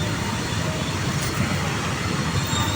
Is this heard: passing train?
yes